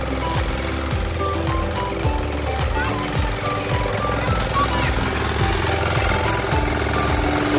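A small farm tractor engine is started with a rope pull and runs at a rapid, uneven putter with repeated knocking pulses for several seconds, loud and close.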